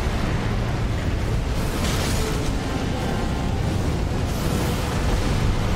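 An explosion rumbles in Elden Ring, a loud, sustained blast with a deep roaring body. Bursts of crackling debris rise twice over the continuous rumble.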